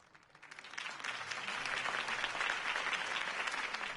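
A crowd at a political rally for Harvey Dent in Batman: The Telltale Series breaks into applause that swells quickly and then holds steady, a dense, distant wash of clapping.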